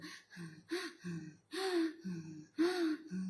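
A voice imitating rapid labored breathing as in a patient with a lung infection: a repeated pattern of short sharp inhales followed by longer breathy exhales, close and fairly loud, with no other sound.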